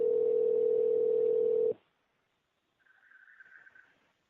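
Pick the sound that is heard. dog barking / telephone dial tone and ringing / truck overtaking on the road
telephone dial tone and ringing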